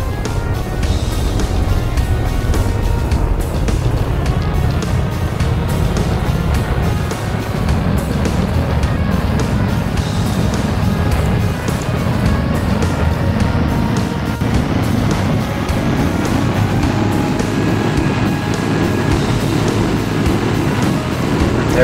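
Rocket engines throttling up in Kerbal Space Program roar as a dense, steady, unbroken rumble that holds loud and constant throughout, with no talk over it.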